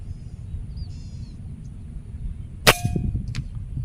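A single sharp crack of an air rifle shot, a Bengal model, followed by a metallic ringing impact on a target about 106 m away, over a low steady background rumble of very strong wind and faint birdsong.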